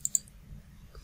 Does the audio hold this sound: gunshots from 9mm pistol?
no